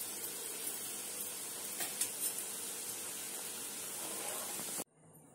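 Momos fry in oil over very low heat, giving a steady, soft, even sizzle with a few faint clinks, before the sound cuts out abruptly near the end.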